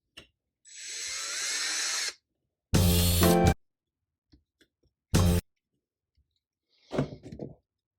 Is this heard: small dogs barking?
no